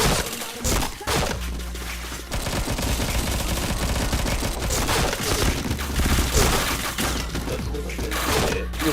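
Rapid automatic gunfire and scattered shots fill a round of the first-person shooter Point Blank, dense bursts crackling almost continuously with thuds and impacts, loud and close.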